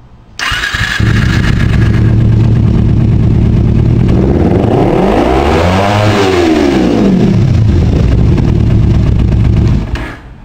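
A motorcycle engine fires up and revs close by, climbing steadily to a high-pitched peak near the red line, then falling back to idle before it cuts off. The sound is loud and continuous.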